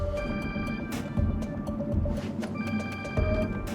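A telephone rings in short repeated bursts over a noisy room with faint chatter, the electronic trill steady and moderately loud.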